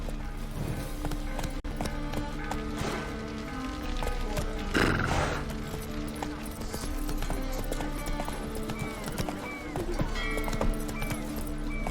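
A horse in the video game The Witcher 3 gallops with rhythmic clip-clop hoofbeats and snorts, a whinny rising midway, all mixed with game music and ambient sound.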